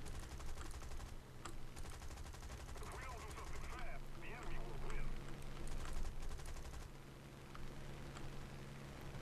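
Hurricane Mk1 fighter guns firing in War Thunder, rapid machine-gun bursts rattling in quick strings over a steady engine drone, with a brief pause mid-clip.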